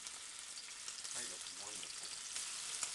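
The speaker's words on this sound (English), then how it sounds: "We have sizzle. Some sizzling." Rapeseed oil sizzling steadily in a frying pan on a stove, a continuous hiss with faint crackles and a brief stirring scrape, no talk.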